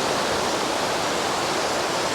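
Fast-flowing River Cocker rushing beneath a railway bridge, a steady, loud broadband roar of churning water with no pauses or voices throughout.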